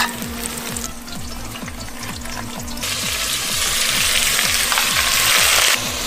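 Food stir-fried in a tall cast iron pot inside a camper on the grassland gives a loud, steady sizzle with repeated rhythmic scraping strokes, growing louder partway through, close by and without speech.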